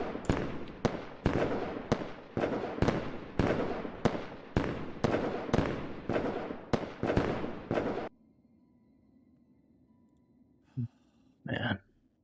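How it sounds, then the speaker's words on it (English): Rapid bursts of fireworks in the video game Hollow Knight: Silksong, about a dozen evenly spaced loud pops over eight seconds, then near silence with two brief faint sounds. "let's run the fireworks again."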